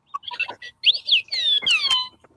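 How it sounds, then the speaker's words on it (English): R2-D2 style robotic beeps and warbling whistles sound off as a debate timer runs out, a quick burst of chirps and rising and falling electronic tones, fairly loud and alone. "Once the timer hits, Dragon will sound off R2D2,"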